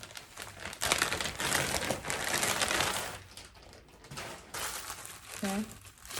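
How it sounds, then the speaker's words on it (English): A little plastic bag holding a headband wig crinkles and rustles in bursts close to the mic, with a voice speaking briefly near the end. "Came in this little plastic bag."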